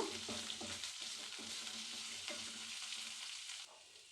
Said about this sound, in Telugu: మంచి కలర్ వచ్చే వరకు బాగా ఫ్రై చేసుకుందాము.